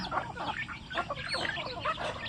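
Backyard free-range chickens, a flock of about fifty native Thai birds on a small farm, chatter and cluck continuously at feeding time, a dense overlapping mix of calls at moderate distance with no one talking.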